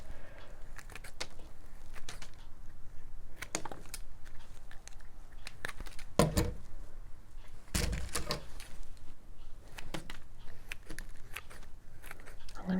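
Scissors snipping material for a handmade fake cherry blossom, a series of sharp, close, irregular cuts and crisp clicks against a quiet room background, with no talking.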